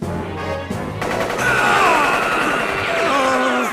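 Nen bullets are fired in a Hunter x Hunter anime scene as a dense, sustained rapid-fire barrage with whizzing streaks, building after a brief lead-in and carrying on loudly to the end under dramatic sound effects.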